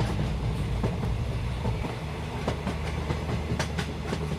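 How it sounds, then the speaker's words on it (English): A train rolls steadily along the tracks, a continuous low rumble with periodic clicks and clacks from the rail joints, close and loud with no talking over it. "Okay, we're on a train."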